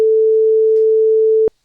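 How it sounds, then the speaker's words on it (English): A pure, steady sine tone generated with SoX holds at one pitch, loud and unwavering for about a second and a half, then cuts off abruptly with a small click into silence. "we're using the SIN for a sine wave"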